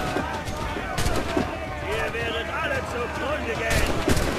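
Gunfire rattles in the Assassin's Creed 4 Black Flag video game during a naval battle, with repeated shots and bursts under continuous game noise while someone talks over it.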